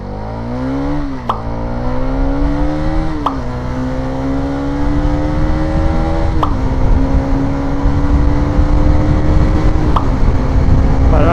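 A 210cc motorcycle pulling away from a standstill, its engine loud and close, revving up through each gear with a brief drop in pitch at every shift before climbing again.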